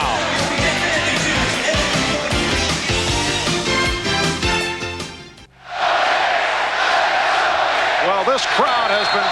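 A packed arena crowd at a 1995 NBA playoff game between the Knicks and Cavs roars loudly in a dense, sustained wash of cheering, with a sneaker squeak or bounce in the mix and no clear talk over it.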